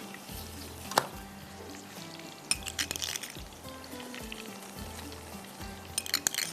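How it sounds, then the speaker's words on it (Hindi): Tadka tempering sizzling in a pan, poured over sarson ka saag served with makki ki roti, a steady low frying hiss with a few sharp clinks of utensils and brief bursts of crackle near the start and end. "चले जी, तड़का जा रहा है इसके ऊपर।"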